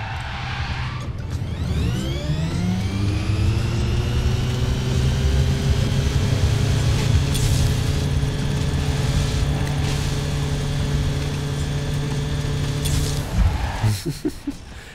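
A sports car engine in Forza Horizon 4 revs up steadily and holds a loud, sustained drone for most of the stretch, then drops away near the end.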